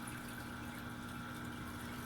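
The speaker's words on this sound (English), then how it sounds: "I have an adjustable blower here and I just adjust that up." An adjustable blower pump in a saltwater aquarium set up without a sump stirs the water surface, giving a steady, even hum with a soft wash of moving water and no voices.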